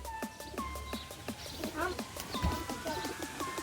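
Pigeons cooing on a house rooftop, repeated soft coos and wing or foot clicks close by, with a person talking over them and a low bump partway through.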